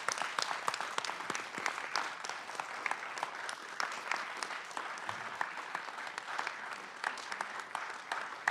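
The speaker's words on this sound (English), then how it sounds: "Let's give him a big round of applause." Audience at a county board of commissioners meeting applauding, a sustained spread of individual claps, fairly faint and steady with no talk.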